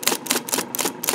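A 1953 IBM Model A electric typewriter being typed on, with about five loud, close, sharp key strikes in a quick, uneven rhythm.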